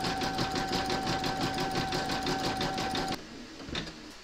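An embroidery machine hums in a fast, even rhythm while stitching a black satin stitch border around a penguin's head and belly, then stops abruptly, leaving quiet with a faint knock.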